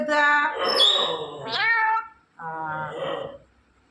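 A parrot's high, bird-like voice mimics a cat's meow in several drawn-out calls, close and loud, with a short pause before the last one.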